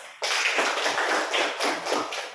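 Classroom students applauding together, a dense burst of close, steady clapping that runs the whole clip with no talking.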